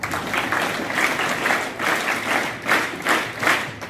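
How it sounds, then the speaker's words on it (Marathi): Audience at a school National Mathematics Day event claps in rhythmic waves, a moderately loud crowd applause that swells and dips several times with no speech over it. "टाळ्या वाजवा जरा."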